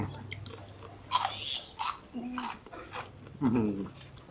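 Crunchy deep-fried banana blossom being chewed close up, several sharp crisp bites and crackly chews spaced out over a few seconds, with faint utensil clinks and a low hum underneath.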